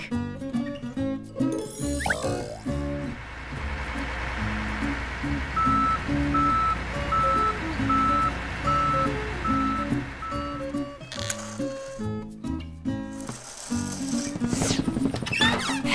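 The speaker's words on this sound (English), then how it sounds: "Garbage truck." A garbage truck reversing, its regular backup beeps repeating steadily over a rumbling diesel engine, with clanking mechanical noises and bursts of clatter near the start and end.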